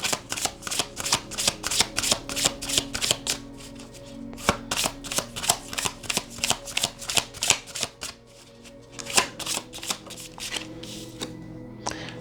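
Tarot and Power of Surrender oracle cards are shuffled in a quick, rhythmic run of crisp riffling bursts, close and fairly quiet, with a short pause partway through.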